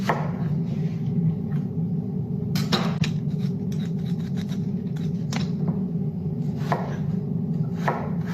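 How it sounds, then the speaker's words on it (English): A knife chops tomato and peeled apple for a grilled cheese sandwich in a series of sharp, irregular cuts over a steady low kitchen hum, with no talk. "We're going to be cutting up our tomato and our apple."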